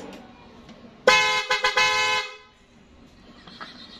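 The stock horn of a 2004 Suzuki Raider 150 carbureted motorcycle gives one loud, close, buzzy honk lasting about a second, broken by several short pulses, then quieter background noise.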